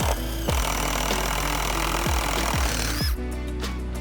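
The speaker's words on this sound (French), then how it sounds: "Afin de faciliter l'insertion du boulon, un truc, percez plus grand." A power drill bores a wider hole for a bolt during a patio installation. The motor roars loudly and steadily, broken by several sharp bursts and stops, with no talking.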